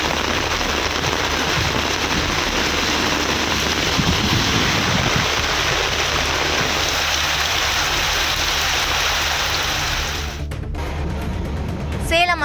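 Heavy rain driven by strong wind after dark clouds gathered, a dense steady roar of downpour throughout, with a sharp cut near the end.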